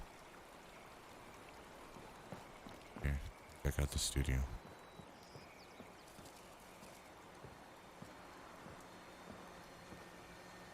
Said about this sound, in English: That's a relaxing sound of rain on the roof there